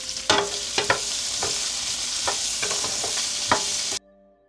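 Okra is stirred in hot oil in a pan, with a steady sizzle of frying under repeated scraping strokes of the spoon, close and continuous until it cuts off near the end.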